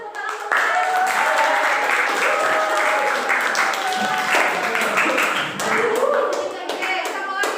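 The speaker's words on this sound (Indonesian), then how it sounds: "Oke, tepuk tangan." Classroom applause from a group of students, a dense, steady clatter of many hands clapping that fills about seven seconds, with voices mixed in beneath it.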